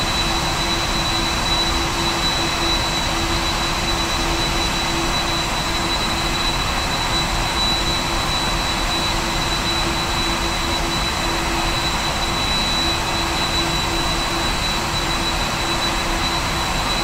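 Boeing 747-400 jet engines idling in the PMDG flight simulator, a steady continuous whine and rumble with a thin high tone, loud and unbroken throughout with no voices.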